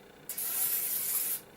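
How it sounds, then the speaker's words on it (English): One short, close burst of olive oil cooking spray coats a burger pan, a bright hissing spray lasting about a second and then cut off. "I'm using olive oil cooking spray here."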